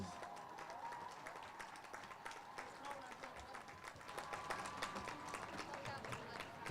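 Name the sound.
audience applause for students at a football game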